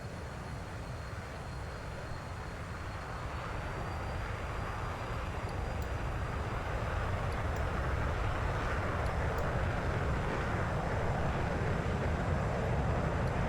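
Steady broadband aircraft engine roar from a fixed-wing plane in the flight simulator DCS, continuous and fairly loud throughout, building slightly in intensity, with no talk.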